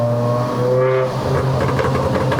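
A Proton Inspira 2.0P with a converted five-speed manual, its engine revving loudly up close with a rising tone, then popping and crackling in rapid irregular bursts.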